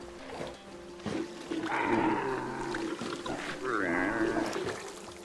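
Camels in a video game grunting as they walk around, low rumbling groans rising and falling in a couple of drawn-out calls over a steady ambient bed.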